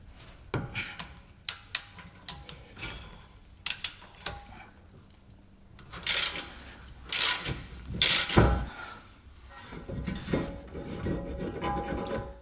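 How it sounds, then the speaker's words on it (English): Bolt being worked loose from the rear suspension lower arm of a Jaguar S-Type, giving a series of sharp metallic clicks, creaks and ratcheting bursts close by, with short pauses between efforts. "getting this bolt out to access this lower bolt"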